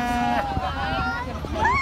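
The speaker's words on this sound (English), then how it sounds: "Oh, the cow moo." Livestock at a cattle farm on a children's class visit give sustained, wavering calls with bleating quality, close and fairly loud, over a busy background of crowd chatter and farm noise.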